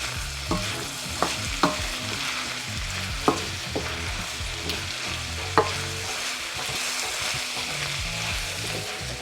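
Chicken thigh fries over high heat in a pan, a continuous close sizzle punctuated by several sharp clicks and scrapes of stirring.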